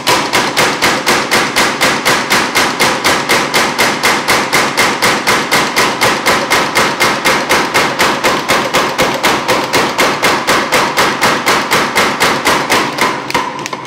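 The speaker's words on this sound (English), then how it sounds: "You can see that the dies on this hammer are super cold and the steel is pretty hot." A power hammer forging hot steel between cold dies, striking in a fast, steady, evenly spaced run of loud metallic blows that carries on without a break.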